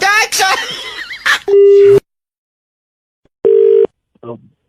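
A telephone busy tone: two flat, steady beeps separated by silence, following a short burst of voices at the start.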